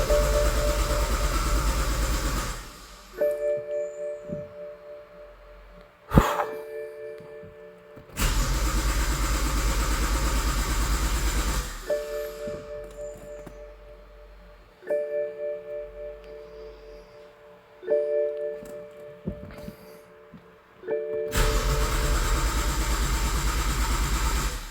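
A BMW 535Xi wagon with a homemade single turbo kit cranks and fires in several bursts, each loud churning stretch of starter and engine followed by quieter pauses.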